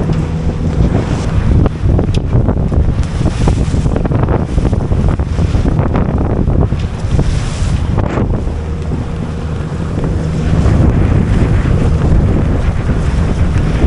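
Strong wind roars and buffets the microphone aboard the sailboat Doris as it sails upwind between Symi and Bozburun, a steady loud rush with water wash beneath and no voices.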